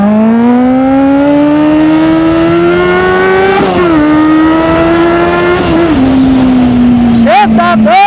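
A 2014 Kawasaki Z800 motorcycle accelerates in a steady, loud rising pull, with a brief gear change midway and a final sharp burst of revving; a voice talks over it near the end.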